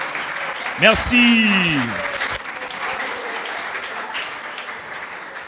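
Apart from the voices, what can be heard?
audience applause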